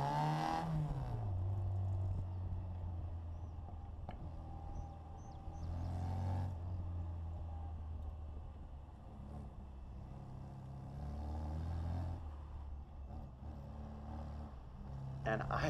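A Bugeye Sprite fitted with a hot cam and SU carburetors drives a tricky loop, its engine droning and rising steadily in pitch under continuous talk from a person inside the car.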